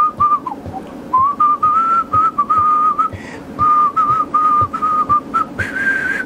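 A man whistles a melody from a song, thin wavering pitched notes in short phrases, near and fairly loud, with soft background music underneath.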